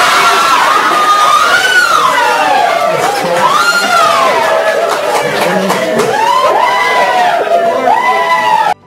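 Family and supporters in a courtroom erupt after a not guilty verdict: a loud, dense crowd of excited shouting, cheering and high-pitched screaming voices, with scattered sharp claps, sustained for the whole stretch.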